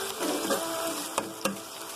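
Onions fry in a pan with a pinch of sugar, giving a steady close sizzle broken by two sharp clicks of stirring, with no voices.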